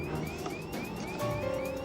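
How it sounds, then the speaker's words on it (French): A cockpit cabin altitude warning alarm sounds during a pressurization failure at about 24,000 feet, a steady repeating electronic tone over a dense, noisy cockpit background with no talk. "Alarme d'altitude cabine."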